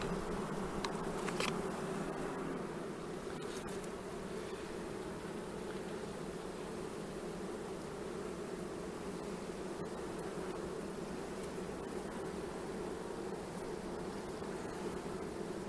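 A honeybee colony hums steadily and densely throughout, a close, continuous buzz of many bees at an open hive during inspection, with no voices.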